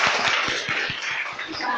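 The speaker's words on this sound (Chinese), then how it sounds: "现场所有贵宾，先来一个热情掌声吧" Audience applause at an award ceremony for an image competition at Yanshui's Yongcheng Theater in Tainan: a dense, steady wash of clapping throughout, with soft low thumps repeating at a fairly even pace underneath.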